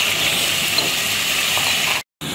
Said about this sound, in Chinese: 我们一碗的剁辣椒下锅